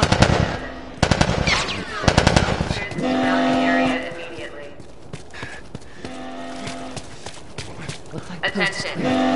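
Bursts of automatic gunfire and single shots crack through a tense firefight in The Last of Us Remastered, loud and close in the opening seconds, then easing into shouting voices and a droning alarm-like hum.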